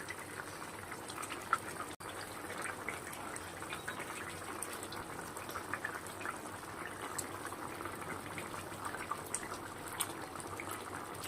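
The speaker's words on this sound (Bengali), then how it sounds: "পুরো ঝোলটা ফুটে গেছে, এবার মাছটা দিয়ে দেবো।" Bengali aar fish jhal gravy boiling in a pot, with a soft, continuous bubbling and simmering that stays low and even throughout.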